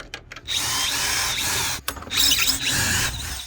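A power drill drives screws into a wooden stud, whining in long loud close bursts with brief pauses between them as the bit bites into the wood.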